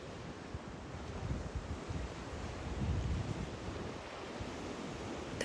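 Sea waves wash steadily onto the shore in a soft, continuous rush, with gentle swells and some wind noise and no voices.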